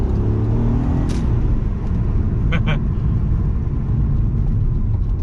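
An Audi TT Mk1 3.2 V6 quattro accelerates hard in second gear on a wet road, its engine a loud, continuous rumble from inside the cabin, with someone talking over it.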